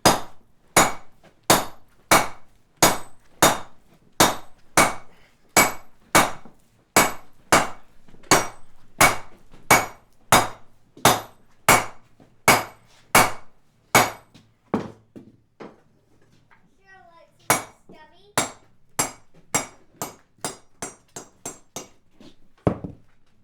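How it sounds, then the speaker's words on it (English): A hammer strikes steel on an anvil while forging a round swage, ringing blows landing in a steady rhythm of roughly one per second, briefly faltering into lighter taps before resuming. "This, folks, is why your anvil needs to be tied down really good."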